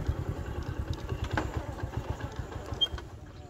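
Motorcycle engine idling nearby with a steady low rapid putter, moderately loud and alone without talk.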